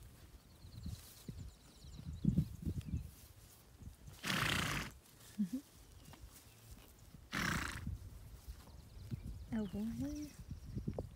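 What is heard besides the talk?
horses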